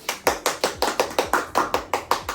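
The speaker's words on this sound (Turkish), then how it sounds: "ben şimdi bir de tebrik alkışı istiyorum" Hand clapping in a steady, even rhythm, about ten distinct claps over a couple of seconds, close and fairly loud, as congratulations at a home cooking contest among family members.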